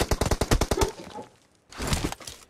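Automatic gunfire in a PUBG team deathmatch fires as a rapid burst of sharp shots, then a short pause and a second denser burst, loud and close with no voices.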